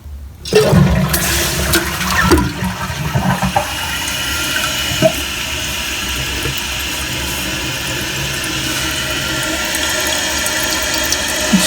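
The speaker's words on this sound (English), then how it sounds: "I'll flush it like 4 times, and we'll test it on the 4th flush, or 3rd flush, okay?" A toilet fitted with a NeverScrub self-cleaning bowl unit flushes with a loud, rushing gurgle of draining water, followed by a steady, hissing refill of the tank that carries on to the end with no talking.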